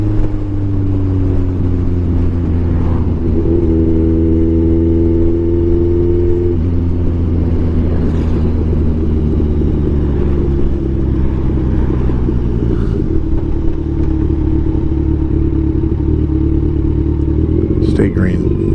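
Kawasaki Ninja 1000 motorcycle cruising at 57 mph on a country road, a loud steady engine drone with wind rush, holding pitch with slight shifts throughout.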